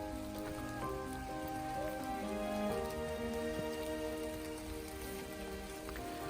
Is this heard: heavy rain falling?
yes